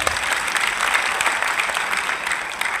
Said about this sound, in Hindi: बजा दो जोर से ताली एक बार